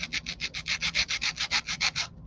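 A small piece of basswood rubbed by hand against sandpaper in a quick, even back-and-forth rhythm of about fifteen rasping strokes, close and clear, then stopping.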